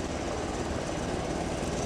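A military helicopter engine in the video game Arma 3 drones with a loud, dense rotor and turbine roar, steady and close for the whole moment with no talk over it.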